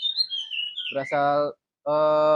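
A songbird, a loud chattering species kept as a pet in a village, sings close and strong. A sweeping high whistle is followed by two sustained, rich, harmonic notes separated by a short silence.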